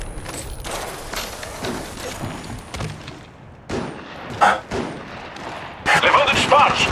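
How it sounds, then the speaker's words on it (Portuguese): Gunfire in the mobile battle royale game Apex Legends Mobile, with bursts of shots cutting through busy game audio and a louder volley near the end, mixed under in-game voice lines. "Levando disparos."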